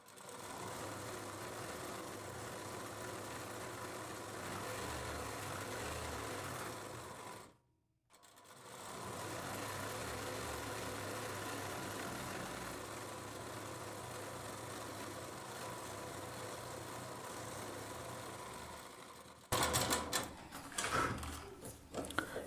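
A sewing machine stitches the lining trim on a Rajputi suit's lehenga, running in a continuous quiet whir with one brief pause, followed by faint handling clatter at the end.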